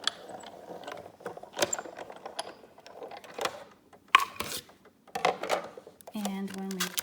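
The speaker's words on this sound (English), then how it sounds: "So I'm going to run that through the die cutting machine." A die cutting machine cranks a stitched rectangle die through, giving close, uneven mechanical clicks and grinding rolls with short pauses, and a voice is faintly present.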